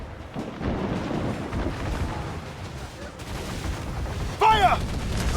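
A cannon volley in a naval battle in Assassin's Creed Black Flag: a rumbling barrage of booms under shouted crew voices, ending in a sharper, louder blast near the close.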